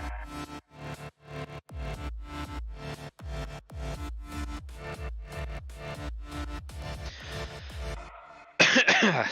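A woman with a bad cough breaks into a long, rapid fit of coughing, one harsh burst after another. A louder, rougher rasp closes the run.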